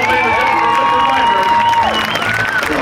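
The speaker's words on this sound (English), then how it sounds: "Give her a big round of applause" A rodeo crowd at an outdoor arena cheers and claps for a hometown cowgirl after a barrel racing run, with whoops and raised voices mixing into a busy, moderately loud wash of noise.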